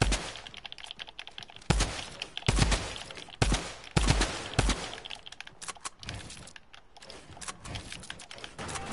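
A quick grenade explosion in a battle lab video game match, heard as several loud, sharp blasts with deep thumps, scattered over rapid clicking and clattering game noise.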